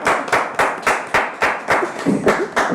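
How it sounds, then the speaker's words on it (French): A small audience claps in a steady, rhythmic beat, about a dozen even claps over a few seconds as a presenter parades her new high-heeled pumps on a French TV talk show set. "je vais défiler un peu et vous allez applaudir pour mes chaussures"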